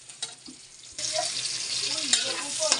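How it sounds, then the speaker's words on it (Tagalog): Vegetables, carrots among them, are sautéed for pansit chami, with a quiet start that gives way to a sudden loud sizzle and scattered clinks of stirring. "So, sagisa muna tayo."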